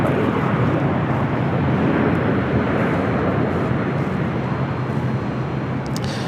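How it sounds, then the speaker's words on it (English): A JSX ERJ 145LR regional jet arrives at LAX, its engines producing a loud, steady broadband roar that stays close and constant throughout with no voices. "Next arrival here on the north side is JSX, flight 320, coming in from Las Vegas. It's an ERJ 145LR."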